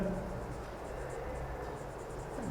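Chalk or marker scratches steadily across a board during a mathematics lecture, a close, continuous writing sound with a lecturer's voice faintly present.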